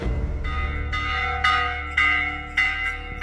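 Village church bells in Masaya, Nicaragua, rung as an alarm during an attack in 2018, clanging in repeated strokes about every half second, each ringing out with a long metallic hum, moderately loud and alone.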